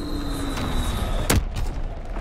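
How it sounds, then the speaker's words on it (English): In-game gunfire from a primary battery in Call of Duty WW2, a single sharp blast cutting through a dense, continuous wash of battle noise and rumble. "Firing primary battery."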